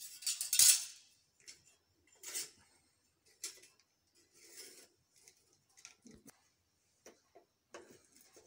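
Thin metal core laminations pushed one by one into a wound transformer bobbin, giving a series of bright, close metallic clinks and scrapes at irregular intervals, separated by near silence.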